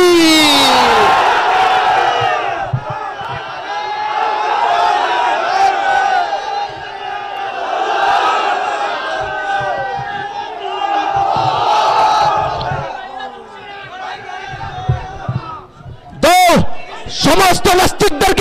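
A large outdoor religious gathering at the Charmonai field shouts takbir, massed voices swelling in repeated waves of Allahu Akbar, loud and reverberant, with a single voice calling out near the end.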